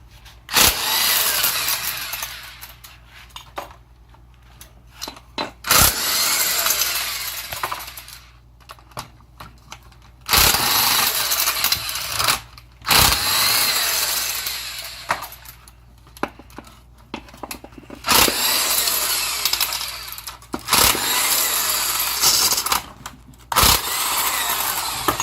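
Case bolts being removed from a Tremec T5 transmission with a power tool: repeated bursts of loud, rattling impact-driver whirring, each lasting a few seconds, separated by brief pauses with clinks of metal.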